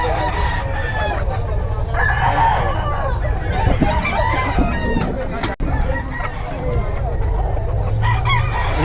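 Stag gamecock roosters crow loudly and repeatedly nearby, with clucking fowl and a murmur of people talking in the background.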